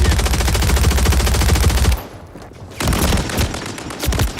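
Rapid automatic gunfire in the Call of Duty Warzone video game, a loud sustained burst for about two seconds, a brief lull, then further bursts of shots continuing.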